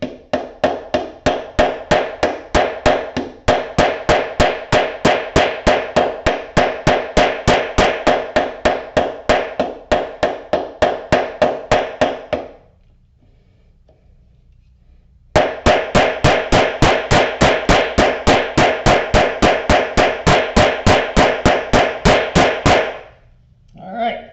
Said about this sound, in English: I'm going to take my ball-peen hammer and mushroom it out just like I would any other rivet